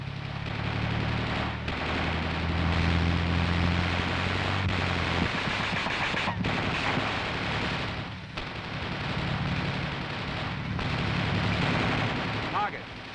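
Coaxial machine gun of an M551 armored reconnaissance airborne assault vehicle firing at troops, sustained loud bursts of automatic fire with short gaps, over a low rumbling vehicle engine.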